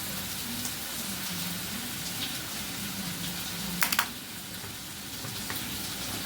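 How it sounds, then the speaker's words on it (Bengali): Potatoes frying in a pan make a steady soft sizzle and crackle, with a couple of brief sharp clatters partway through. "ততক্ষণ আমি একটু আলুটা ভেজে নিই"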